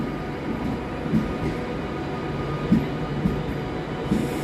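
A passenger train rumbles steadily on the rails at Crewe station, a low continuous roar with occasional soft clanks and thumps.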